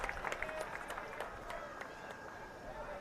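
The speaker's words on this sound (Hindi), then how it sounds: "उसके लिए आप ताली बजाइए" Audience at a political rally breaking into scattered clapping and crowd noise, dense but fairly distant, with a speaker's voice mixed in.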